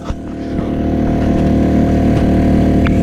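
A pull-started outboard motor on a small fishing boat on Lake Almanor in winter runs with a loud, steady, close engine drone that builds slightly and holds throughout, with no talking.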